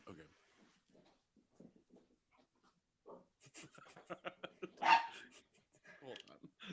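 A pet dog named Uma whimpers and lets out a sharp bark, seeking attention indoors while a person talks nearby.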